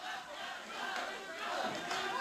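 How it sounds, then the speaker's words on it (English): A wrestling arena crowd in St. Louis chants and yells steadily throughout, a dense, loud wall of voices cheering on a Von Erich brother during a match. "The crowd chanting, yelling, trying to give Kevin Von Erich whatever help they can vocally"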